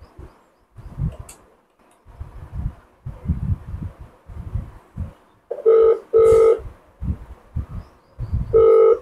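A Hola F100 dual SIM landline phone sounds its tones during a test call, a few bright electronic beeps near the end after a stretch of muffled handling and clatter, close and fairly loud.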